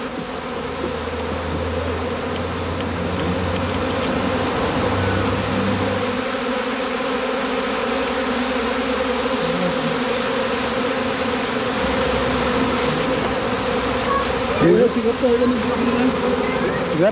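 A dense, continuous hum of many honeybees buzzing close by in a straw skep, loud and steady throughout, with no voices.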